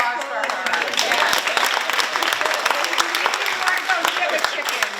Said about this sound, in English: And that's an applause for her.